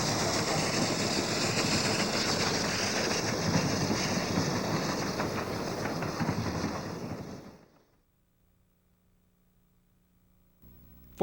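Steam locomotive number 1782, class W3282, rolls from the Seattle roundhouse onto the turntable toward the freight yard, a steady rumbling mechanical roar that cuts off abruptly into near silence.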